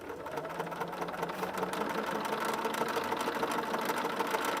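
A sewing machine runs steadily through a scrappy strip-pieced chevron quilt, a continuous close mechanical whir with a faint rhythmic knock that holds for several seconds without talk.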